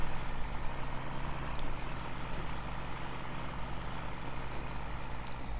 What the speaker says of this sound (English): as you can hear, it's got plenty of power. It's got a nice sounding engine.